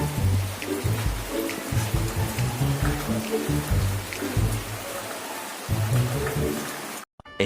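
Rain pours steadily outdoors during Typhoon Ambo in Bicol, a dense continuous patter with low gusty rumbles underneath before the sound cuts off abruptly near the end.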